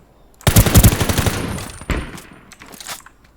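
Loud automatic gunfire in the online battle royale game Ring of Elysium, a dense burst of rapid shots followed by a few scattered single shots that fade.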